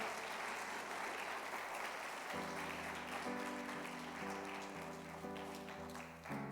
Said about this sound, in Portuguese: Você pode aplaudir a esse nome?